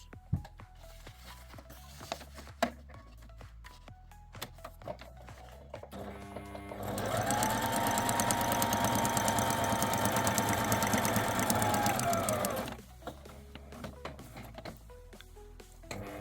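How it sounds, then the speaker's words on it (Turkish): A sewing machine stitches fabric in a continuous, even whirring run of about six seconds, framed by quieter clicks and handling of the machine and fabric before and after, close up with no speech. "ayağı indirip dikişe devam ederiz"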